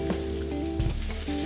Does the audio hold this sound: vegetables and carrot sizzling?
yes